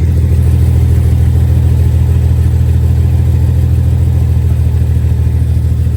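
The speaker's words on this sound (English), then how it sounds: "do you think that sounds like an exhaust leak?" A car engine with an exhaust leak runs steadily with a deep, constant low rumble and a rough, slightly raspy exhaust note, close by, with no talking.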